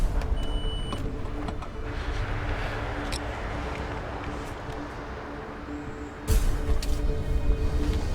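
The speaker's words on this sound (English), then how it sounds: "As he gets close to Scarlett's location, Rob pulls over to get ready." A car slowing and pulling over on a rural road, steady engine and road rumble that eases off, then a sudden louder thump or door-like jolt near the end, close and alone without talk.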